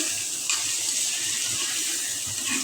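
Fish is rinsed under a running tap in a kitchen, with a steady, close gush of water splashing continuously and a brief louder splash early on.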